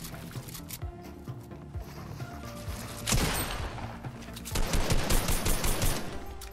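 Assault rifle fire in the video game Fortnite, loud rapid bursts of automatic shots that grow denser and more intense toward the end.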